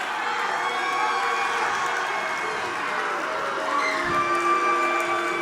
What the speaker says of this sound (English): The crowd here is loving every bit of this